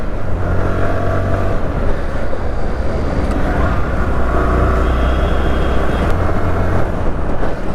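A steady, loud engine drone with low rumble throughout, continuous motor noise of a Bajaj Platina 110 ABS motorcycle being ridden, no talking.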